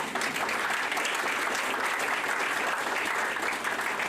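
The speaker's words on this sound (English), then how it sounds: "Give yourself a round of applause." Dense, sustained applause from an audience in the BP Ballroom at Queens Park Oval, Port of Spain, with beauty queens present. Steady, close clapping fills the room for the full four seconds without a break.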